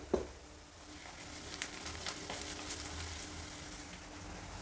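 Onion and garlic frying in a pan with turmeric powder added, a soft steady sizzle and crackle after a brief clink at the start, close but quiet, with no talking.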